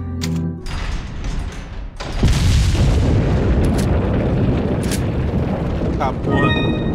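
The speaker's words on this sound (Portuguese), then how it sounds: "Deu pra ver a explosão de fundo." A background explosion in the video game Resident Evil 4, heard as a deep, rumbling boom that swells and keeps roaring for several seconds amid other game noise.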